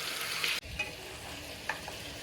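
Chicken pieces sizzle in a pan while being cooked for tomato chicken gravy, a steady hiss broken by an abrupt cut and a few sharp spatula scrapes and clinks against the pan.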